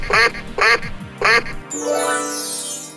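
A duck quacks three times in loud, close bursts, followed by a long sweeping electronic tone in a children's short-vowel reading lesson.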